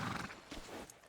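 A horse in the video game Red Dead Redemption 2 whinnies briefly amid a soft, steady background of hooves and ambient noise, fairly close and moderately loud.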